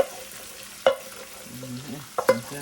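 Ackee and saltfish with natural seasoning frying in a pan, heard as a quiet low sizzle with a few sharp scrapes and clacks of a stirring utensil, plus some faint tonal background sounds.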